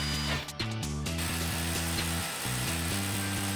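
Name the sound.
power drill screwing into floor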